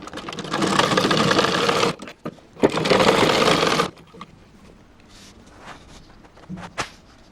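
A sewing machine stitches the side seam of a blouse in two loud, rapid bursts of a few seconds each, followed by quieter handling noises and brief clicks.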